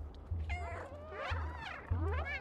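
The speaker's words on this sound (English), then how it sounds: "Okay, you can meow." A cat meows in the video game Stray, giving three or four short, clear, close meows in quick succession over a low, steady game backdrop.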